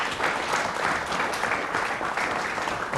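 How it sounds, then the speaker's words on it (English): A studio audience at a science quiz show claps steadily for a team, a dense, even wash of applause that holds at full strength from start to finish with no voices over it. "Audience, let's have a big round of applause for the team."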